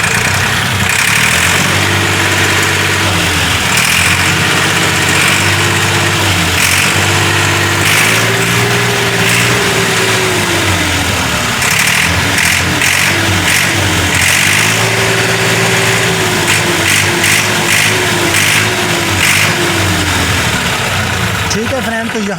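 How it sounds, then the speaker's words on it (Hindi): A 2016 Massey Ferguson 240 tractor's diesel engine idles with a steady low throb whose pitch dips and swells now and then, loud and close throughout while someone talks over it. "तो ट्रैक्टर का साउंड भी आपने सुन लिया।"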